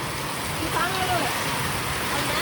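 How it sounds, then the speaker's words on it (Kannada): Heavy rain with hail falling steadily, a dense even patter of drops, with a voice faintly audible underneath. "ಮಳೆ ಭಾಳ ಐತಿ"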